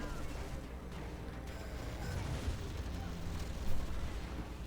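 Carpet bomb explosions in the Zero Hour strategy game, a dense, continuous rumble of overlapping blasts with one louder burst near the end, heard steadily throughout.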